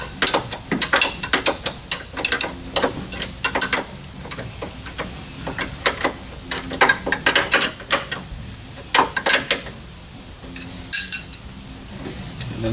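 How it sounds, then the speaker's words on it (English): Ratchet wrench clicking in uneven runs while tightening a suspension arm on a fourth-generation Pontiac Firebird drag setup, close and crisp over a quiet background. "whenever I tighten this down, it's going to square that arm up to where it wants to be"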